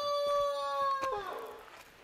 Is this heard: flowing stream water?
no